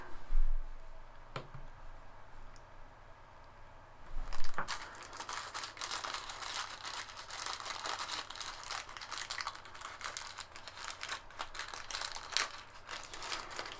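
A plastic bag crinkles as Parrot Anafi drone propellers are unpacked. A couple of sharp handling taps come first, then continuous close, busy crackling rustle with louder bursts, and no talking.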